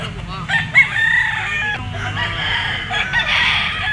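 A Golden Boy sweater bull stag gamecock with yellow legs crows loudly and close by, one drawn-out call followed by throaty clucking, with other roosters audible in the background.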